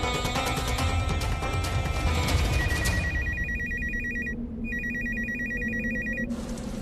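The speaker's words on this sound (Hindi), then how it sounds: "इन्हीं का फोन होगा।" A telephone rings in an indoor scene from a Hindi TV drama, sounding as repeated bright electronic ring bursts with a short gap between them, loud and close, after a stretch of dense background music.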